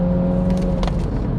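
A 2017 MINI Cooper S 5-door engine accelerates with a steady, droning hum heard from inside the car. Faint road noise sits underneath for the whole short stretch.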